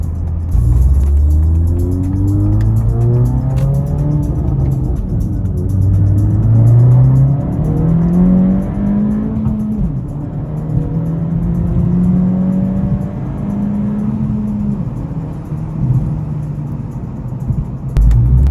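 An Acura Integra's engine rises and falls through several strong acceleration pulls, loud and close from inside the car, with steady road rumble beneath and no talking.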